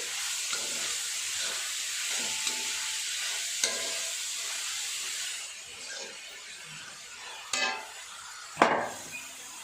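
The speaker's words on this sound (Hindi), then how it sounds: "और ये जितने भी मसाले हैं, लाल मिर्च, गरम मसाला और नमक, ये सब हम डाल के इसको घुमाएंगे।" Frying noodles with red chili, garam masala and salt stirred in give a soft, continuous sizzle, with light spatula scrapes and a couple of sharper clinks and hisses near the end.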